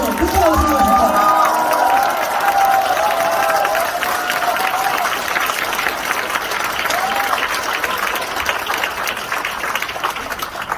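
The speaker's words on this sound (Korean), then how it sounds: "박수랑 부족해서 부탁하겠습니다." Crowd at a talk concert in a Gumi workers' cultural centre claps and cheers in a sustained, dense burst of applause, with a voice speaking over it at the start.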